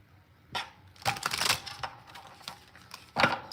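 A deck of tarot cards is shuffled by hand in quick papery riffles and slaps: one short burst, then a longer flurry, and a final crisp riffle, close and fairly loud with no talking.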